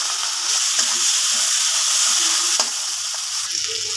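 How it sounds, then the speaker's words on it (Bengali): Prawns frying in hot oil in a kadai, a loud, dense crackling sizzle that runs steadily throughout with a few sharper pops, and no voices. "তেলটা আমার গরম হয়ে গিয়েছে, এবার চিংড়ি মাছগুলো দিয়ে দেবো।"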